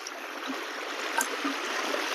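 Stream water flows through Konkan countryside during the monsoon, making a steady, even rushing hiss with faint trickles, moderately quiet and without voices.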